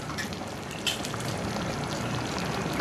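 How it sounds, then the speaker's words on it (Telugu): Tamarind soaking water being poured into a pot of gongura dal, a steady close pour lasting about three seconds with no talking. "ఇప్పుడు ఈ నీరు యాడ్ చేయాలి మనం"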